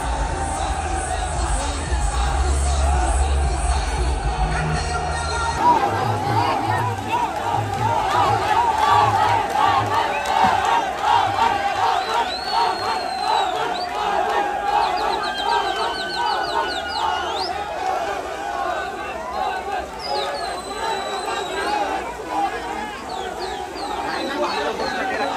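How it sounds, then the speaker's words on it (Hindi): A large crowd of students at a Delhi University election rally roars and chants continuously, a dense, loud hubbub of shouting voices with scattered whistles, heard up close throughout. "भीड़ देख रहे हो, बहुत ज्यादा भीड़ हो रही है भाई"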